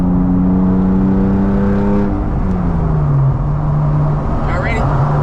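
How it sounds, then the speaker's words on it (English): A BMW E36 engine roars loud and steady on the highway, its pitch holding high then dropping as a gear change goes through, with speech underneath. "Go up to 4th and I'm gonna rev max back into 3rd"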